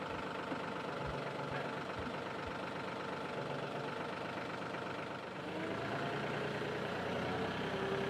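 A tractor engine runs steadily at close range throughout, a continuous low idling rumble with a slight dip in level around the middle before settling back to a constant drone.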